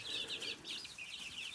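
Young chicks cluck and peep in quick, high bursts, close and fairly soft, with brief pauses between the clusters of calls.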